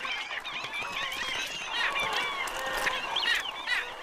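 Black skimmers and egrets gathering in the Amazon, a dense chorus of harsh overlapping bird calls, steady and close, with no talk.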